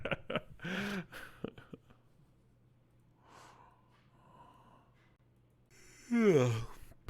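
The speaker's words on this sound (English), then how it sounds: "Pardon the yawn." A long drawn-out yawn rises into a strained, wavering vocal groan and then cuts off, loud and close. Scattered talk and quiet breaths come before it.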